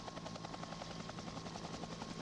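Helicopter filming the 2001 Amstel Gold Race cycling event, heard alone as a steady close rotor drone with rapid, even blade chop throughout.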